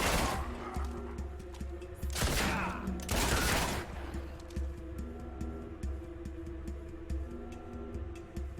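Pistol shots in Fable II, a few sharp cracks spaced seconds apart over a low, steady game backdrop, fairly near and moderately loud.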